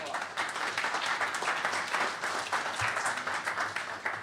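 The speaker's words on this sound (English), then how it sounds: "let's give him a round of applause." Audience applause for a speaker at a cyber threat intelligence talk, a steady dense wash of clapping filling the whole stretch.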